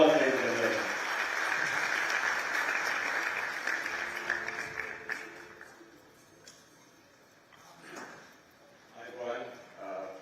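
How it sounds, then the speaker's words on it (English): Audience applause at a Sri Lankan digital public infrastructure summit, starting strong and steadily fading over about five seconds before a speaker's voice and stage sounds take over. "Can we have a round of applause, ladies and gentlemen?"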